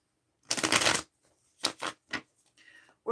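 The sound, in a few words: shuffling a tarot card deck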